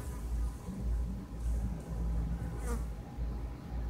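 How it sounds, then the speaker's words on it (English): A bee buzzes outdoors in fine weather, a steady close drone wavering in loudness over about four seconds, with low rumble underneath and no speech. "Is that a bee?"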